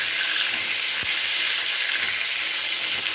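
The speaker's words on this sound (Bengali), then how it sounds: "খুব ভালো করে ভেজে নিচ্ছি পটলগুলোকে" Pointed gourds (potol) frying in hot oil in a pan, a steady close hiss of sizzling with a faint stir or bump partway through, no voices.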